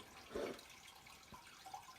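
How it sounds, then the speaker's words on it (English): Water runs through a drain pipe beneath a living-room floor, heard from a crawl space: a faint, hollow trickle with a soft gurgle, under steady background hiss. "I hear a pipe, and I hear water running through it"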